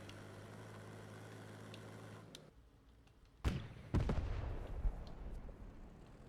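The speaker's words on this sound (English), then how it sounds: "Shooting at the people over there in the forest" Gunfire in the World War II shooter Squad 44 during an Allied attack on Axis positions: a couple of sharp, fairly close shots ring out after an engine-like drone cuts off, followed by a rumbling tail and a fainter later report.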